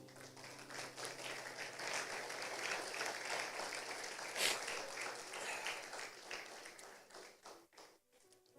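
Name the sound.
church congregation applauding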